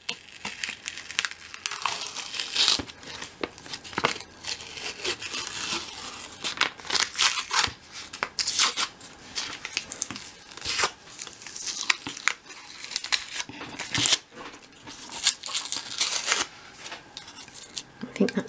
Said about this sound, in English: I do like peeling paper.